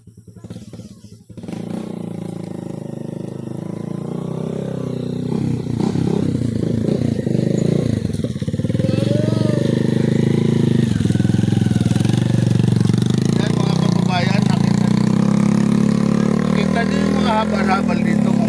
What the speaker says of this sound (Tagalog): Kunan mo yung motor na yan.